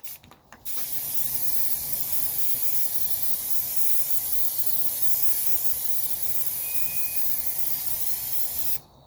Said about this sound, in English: we're going to go ahead and start with several light coats of the semi-gloss